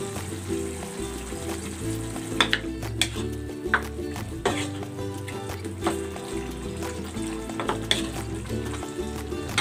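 Bottle gourd and glass noodles sauteing in a pan, a steady sizzle with intermittent metallic clinks and scrapes of a utensil stirring, close and moderately loud, with background music and no talk.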